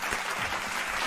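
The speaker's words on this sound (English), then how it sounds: "Giving him applause." A short burst of crowd applause sound effect played during a gaming livestream, dense steady clapping throughout.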